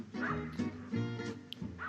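Dogs bark in the Cuphead Howling Aces boss fight, an aerial Doggone Dogfight against enemy planes: a few short, loud, yappy barks in quick succession over game music.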